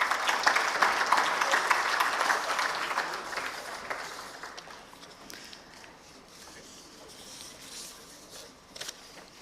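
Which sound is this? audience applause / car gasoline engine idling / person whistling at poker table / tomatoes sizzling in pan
audience applause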